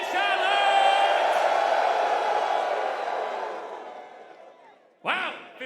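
A large esports crowd at a Rainbow Six Siege major in Charlotte cheers loudly, a sustained roar that slowly fades away before a sharp new shout breaks in near the end.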